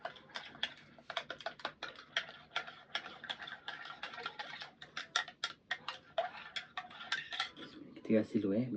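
A metal spoon stirs Nestea tea mixed with hot water in a cup, giving a close, rapid run of light clinks against the sides in a steady, busy rhythm.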